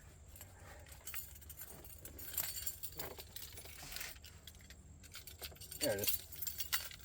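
Keys jangle and clink close by in a busy, noisy setting, with short metallic rattles under a brief spoken remark.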